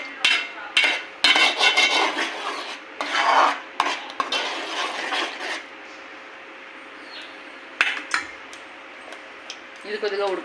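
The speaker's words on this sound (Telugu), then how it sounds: "ఇది బాగా కలుపుకోవాలి." A spoon stirring ginger paste into paneer butter masala in a pan, giving bursts of scraping and clinking against the metal with quieter pauses between, close by and without talk.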